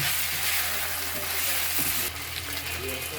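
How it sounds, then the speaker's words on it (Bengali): Noodles tossed with packet noodle masala in a hot pan give a close, busy sizzle with scraping stir strokes, shifting slightly louder partway through. "সুন্দর করে মশলাটা মাখায় মিক্স করে নিতেছে।"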